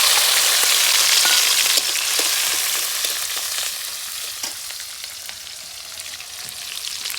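Ginger, bay leaf and dried chili fry in oil with a steady close sizzle and fine crackling, loud at first and easing slightly over the seconds, with no talking.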